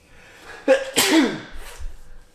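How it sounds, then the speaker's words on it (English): A single loud sneeze, a sharp breathy burst after a short inhale, followed by quiet rustling. "I'm gonna sneeze."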